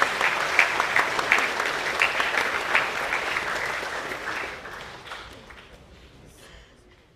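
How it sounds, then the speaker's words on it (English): A school awards assembly crowd applauds its Year 10 winners, a lively burst of many hands clapping that starts strong and gradually thins and fades away toward silence. "Round of applause for our Year 10 award winners"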